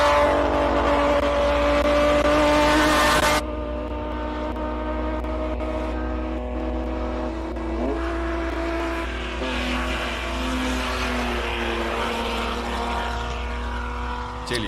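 A classic race car storms up the Simola Hillclimb, its engine roaring hard and steady with shifting tones as it passes and fades. A loud initial blast drops to a sustained, slightly distant drone, with no talking.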